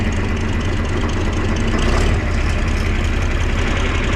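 A John Deere 4020 tractor engine idles on a cold day, a steady, loud low-pitched diesel rumble with an even chugging pulse that runs unbroken from start to finish.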